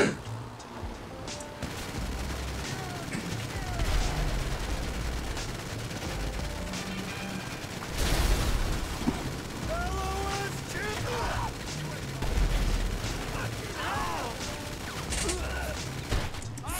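Gunfire in GTA 5 Online during a CEO special vehicle cargo mission with the Aqua Blazer rattles through a steady, dense game soundscape, with bursts of shots and mechanical noise continuing throughout at moderate loudness.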